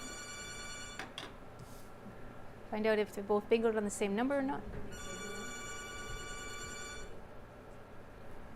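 A telephone rings on a televised bingo call-in show as callers wait on the phone lines, giving a short ringing burst early and a longer, steady electronic ring later, with a presenter talking in between.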